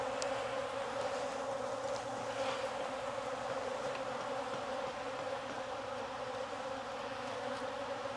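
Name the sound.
honey bees buzzing in an opened hive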